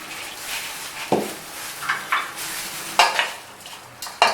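Raw green mango pickle being tossed with spices in a bowl, a homemade kachi keri achaar: a few separate scraping, sloshing stirring strokes close by, each short burst then a pause, with no talking.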